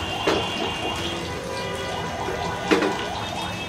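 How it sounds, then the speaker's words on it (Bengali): Apple cinnamon snacks fry in hot oil until browned, giving a close, steady crackling sizzle with dense popping spatter throughout and no talk over it. "এই যে এরকম বাদামি করে করে আমি সবগুলাকে ভেজে নিব।"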